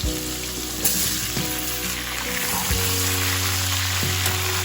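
Diced pumpkin, potato and eggplant hit hot mustard oil spiced with five-spice seeds, a loud, dense crackling sizzle with a sudden burst as the vegetables go in, near and continuous, no talking.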